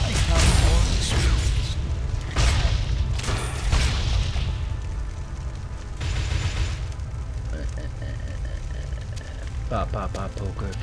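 A cannon fires in the action game Torchlight 2, producing heavy booming blasts with mechanical clatter, several bursts spread across the clip at close range.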